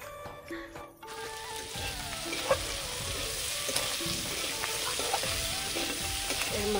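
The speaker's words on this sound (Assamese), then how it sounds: "পিঁয়াজ দি ধুনীয়াকৈ ভাজি লৈছোঁ" Fish head and onion fry in a pan in a home kitchen, giving a steady, close sizzle and crackle that runs throughout with small clinks of stirring and no speech.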